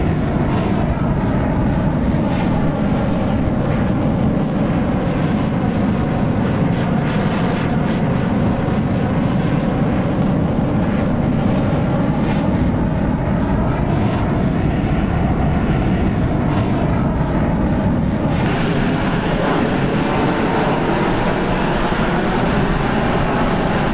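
A Lockheed F-104 Starfighter flies in a video game. Its jet engine gives a loud, steady roar that goes on without a break, with a slight change in tone near the end and no voices.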